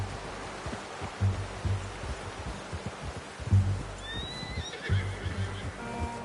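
A horse whinnies in the Red Dead Redemption 2 video game, a high, wavering neigh that rises partway through over low, soft hoof thuds and quiet ambient background.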